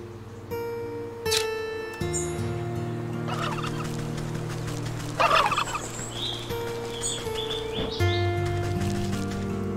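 Turkeys gobble repeatedly in the video game Wytchwood, loud bursts over a steady musical background, with no talking over them.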